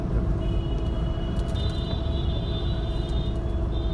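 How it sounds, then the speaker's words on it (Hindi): Dense road traffic jam at the Anand Vihar border crossing, with a steady low rumble of idling and creeping vehicles close by, faint high-pitched whines and horn-like tones running over the top, and no talking. "कितना ट्रैफिक लगा है।"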